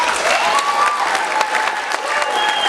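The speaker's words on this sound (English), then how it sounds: "Everyone, let's give a round of applause to everybody." Audience applause at a Filipino cultural gala, a sustained wash of many hands clapping from a large crowd, steady and fairly loud throughout, with faint voices mixed in.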